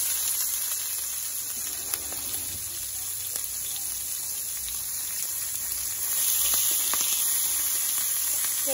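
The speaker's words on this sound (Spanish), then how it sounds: "Ahora, en el aceite que quedó, vamos a echar la cebolla." Onion sizzles in leftover hot oil for Sonora-style hot dogs, a steady hissing fry that swells slightly louder near the end, with no voices.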